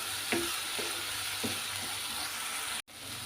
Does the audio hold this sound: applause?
no